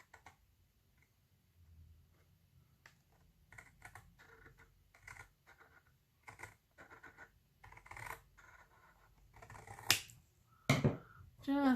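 Scissors trimming the edge of a Creamette cardboard box, a series of quiet, irregular snips and crisp cuts, growing sharper and louder toward the end.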